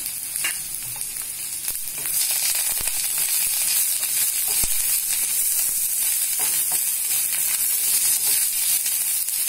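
Green chili, onion, curry leaves and ground ginger-garlic frying in hot oil for a green gram gravy, a loud continuous sizzle and hiss with occasional stirring knocks, close up and without speech.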